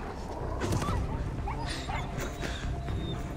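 Police dogs in the video game Beyond: Two Souls whimper and yip in short scattered bursts over steady background noise, with faint voices mixed in.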